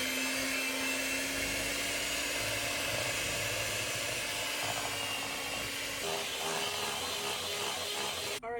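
An electric mixer whirs steadily through snickerdoodle cream cheese cookie batter with eggs and vanilla, a close, continuous whine whose tone shifts partway through before cutting off.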